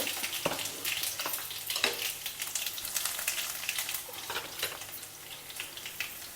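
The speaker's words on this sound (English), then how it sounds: "When the oil is hot, add the mustard seeds, add in the chopped garlic" Mustard seeds and chopped garlic sizzle in hot gingelly oil for a South Indian tomato thokku: a continuous close hiss with sharp, irregular crackles and pops that fade slightly toward the end, with no voices.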